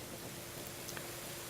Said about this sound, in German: Es regnet bloß.